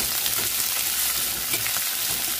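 Onions sizzle loudly in a pan of hot oil with black sesame and carom seeds, a constant crackling hiss broken by soft stirring scrapes.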